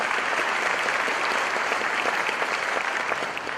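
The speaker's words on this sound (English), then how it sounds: "Please give them a round of applause." Audience applause for interpreters at a high school back-to-school opening presentation, steady dense clapping from a crowd throughout.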